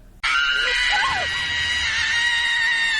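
A woman screams in fright in an audio drama, a sudden loud, sustained high-pitched shriek that starts abruptly and holds for about three seconds, with a brief faint voice beneath it.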